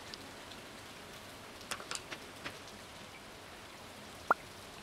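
Steady rain in the Stardew Valley farming game, a soft, even hiss of falling drops throughout with a few faint clicks and one sharp brief tick near the end; no talking.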